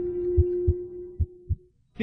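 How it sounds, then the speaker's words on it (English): Heartbeat sound effect of low, thudding pulses, about five beats in two seconds, slightly irregular, over a steady sustained tone that fades out near the end. "All I can hear is my heartbeat."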